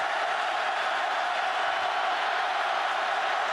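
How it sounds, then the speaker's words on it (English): A stadium crowd at a 2005 Auburn at Georgia college football game, a distant, steady roar of cheering that holds evenly without peaks. "Crowd coming to life on 2nd down and 4."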